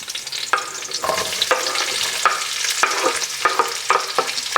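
Garlic and onion sauté together in a pan, a close, steady sizzle punctuated by regular scraping strokes of stirring throughout.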